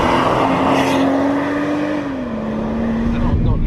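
A BMW F31 340i Touring estate, used as a family car, heard from inside while driving: a steady, continuous engine drone holds at a fairly constant pitch, dipping slightly partway through.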